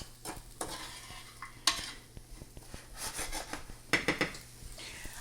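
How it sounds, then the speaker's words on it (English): Onions sizzle in butter in a skillet while a utensil stirs and scrapes them, giving soft crackling frying with sharp clicks and scrapes close by, no voices. "you're going to let this saute for about 5 to 7 minutes until the onions cook down"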